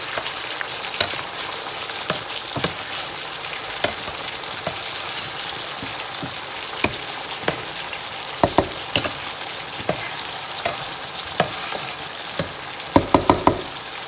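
Ingredients frying in oil in a pan at medium heat for African cooking, a constant hissing sizzle with occasional sharp spatula taps and scrapes, close and steady, no voice.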